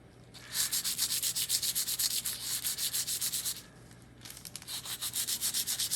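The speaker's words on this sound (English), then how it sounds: "you can give it a sand" Rhythmic hand sanding of guitar hardware with folded sandpaper, in two bursts of steady rasping back-and-forth strokes separated by a short pause, close and fairly loud with no talking.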